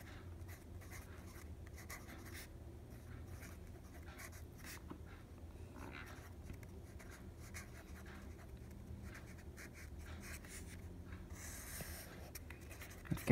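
Pen or pencil scratching across paper while a trigonometry proof is written out by hand, continuous soft irregular strokes, close and quiet, ending in a brief louder knock, with no talking.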